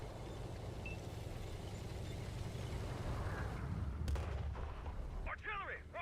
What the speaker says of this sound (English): Artillery, watch out.